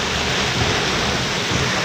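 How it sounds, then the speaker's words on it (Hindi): Heavy rain pouring down in Islamabad at the G11 signal, a dense, steady roar of close downpour that fills the whole stretch without a break, with no voices over it. "तकरीबन टोटल 2-3 मिनट हुए हैं बारिश शुरू हुई है"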